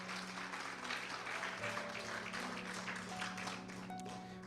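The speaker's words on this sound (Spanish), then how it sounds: "Denle un aplauso fuerte al Señor." Congregation applause during a Spanish-language church service, a continuous, fairly faint wash of clapping over a steady hum and some tonal background sound, with no clear speech.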